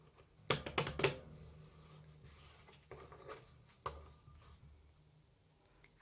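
A deck of board-game cards is shuffled close up: a quick burst of crisp riffling clicks, followed by quieter scattered taps and card handling.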